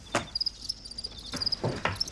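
Crickets chirp in a scene from the TV series Fargo, with repeated high-pitched trills and a few brief clicks and knocks, fairly close and moderately loud, with no voices.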